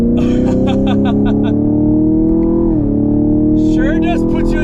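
A Chevrolet Camaro SS with an LT1 V8 holds a loud, steady engine drone that rises slightly, dips briefly, then climbs again, with someone talking over it throughout.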